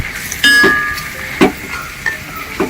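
Chili, turmeric and coriander powder frying in oil for chicken curry while being stirred, with a steady sizzle and several distinct scraping stirs at a regular pace, close and loud.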